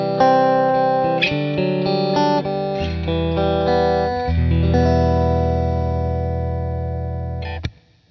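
An electric guitar rings out through a Headrush Core multi-effects preset, sustained distorted chords with a shimmering chorus-like sheen, played alone and fading at the end.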